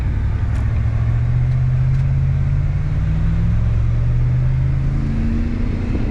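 A 2015–2019 car with harsh shifting and ABS/TRAC warnings rumbles steadily through a U-turn, engine droning low and continuous with a slowly rising then falling pitch as it accelerates, close and loud with no talking.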